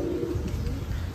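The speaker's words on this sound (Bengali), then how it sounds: "তো দেখান একটু কবুতরগুলো" Fancy pigeons coo softly on a pigeon farm in Pabna district. The low, throaty cooing is strongest at the start over a steady murmur of background noise.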